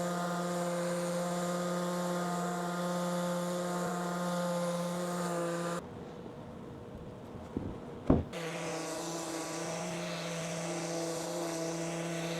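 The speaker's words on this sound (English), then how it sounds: "That little battery powered palm sander that I have, it works pretty good, but it's pretty darn slow." A battery-powered palm sander works across a walnut coffee table with a steady humming whine. It stops briefly midway, a couple of knocks sound, and then it starts up again at the same pitch.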